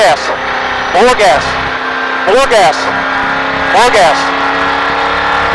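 A car engine revs up hard three times as the driver gives it gas on a racing course, each loud rising whine sweeping past over a steady engine drone.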